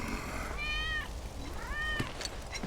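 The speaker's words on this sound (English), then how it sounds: "That's Wedge's cat." Wedge's cat from Final Fantasy VII gives two drawn-out meows in a row, fairly close and clear, followed by faint soft taps and shuffling.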